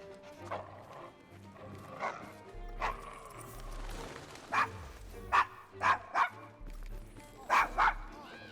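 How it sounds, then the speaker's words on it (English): Dog barking at strangers in a rough London street scene of Assassin's Creed Syndicate, a run of loud, close barks in quick bursts amid game ambience and horse hooves, with characters talking before the barking. "Is your dog quite all right?"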